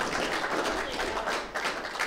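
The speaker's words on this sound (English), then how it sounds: "Could you give him a round of applause?" A live audience claps for a guest on stage, dense steady applause at moderate distance lasting about two seconds with no voices over it.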